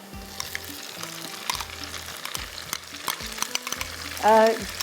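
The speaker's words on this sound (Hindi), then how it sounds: "तो अब मैं मसाले को भूनूंगी" Masala frying with onions in a pan for mutton dahi masala, a steady sizzle with repeated scraping stirs, close and clear, with a brief louder splash of liquid near the end.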